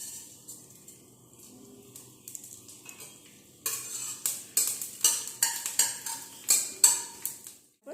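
Panch phoron five-spice hits a little hot oil in a heated wok. A quiet stretch gives way to loud, rhythmic bursts of spoon clatter over a crackling sizzle.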